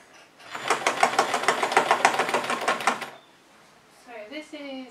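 Sewing machine stitching a denim doormat made from old jeans, a rapid rhythmic burst of needle strokes for about two and a half seconds, then a pause and a brief spoken voice.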